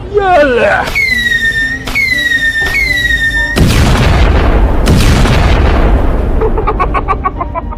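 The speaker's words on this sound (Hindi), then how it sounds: "चल कलवा जल्दी से रॉकेट छोड़" Cartoon Diwali rocket launch: rising whistling squeals and repeated sharp whines, followed by loud booming explosive bursts and crackling debris, with speech mixed in.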